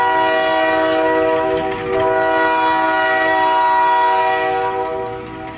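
A heritage railroad train on the Oil Creek & Titusville Railroad sounds a loud, sustained horn chord close by, holding for several seconds with a brief dip, over a low rumble of the train.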